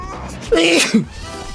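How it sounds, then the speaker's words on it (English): A single sneeze, sharp and close, with a short burst followed by a quick second catch of breath, over faint background noise. "I had to sneeze."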